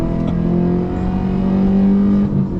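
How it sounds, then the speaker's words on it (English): A Volkswagen fitted with a V8 engine revs while driving, a loud, close, steady growl with slight rises in pitch. "we'll listen to that V8 sing here"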